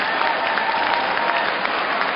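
A badminton arena crowd at the 2008 Hong Kong Open applauds after a long rally, loud sustained clapping filling the hall without pause.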